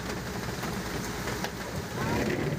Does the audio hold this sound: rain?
yes